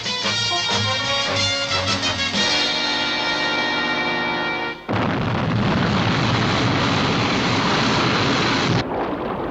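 Sky 1 aircraft lifting off at SHADO HQ, starting as a layered tonal whine that builds, then breaking into a loud, sustained broadband roar that holds for several seconds before cutting off.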